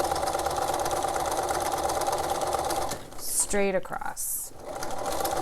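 A sewing machine hums steadily as it stitches the folded lining of a romper waistband, close and continuous, then stops briefly while a voice speaks over a pause before stitching resumes.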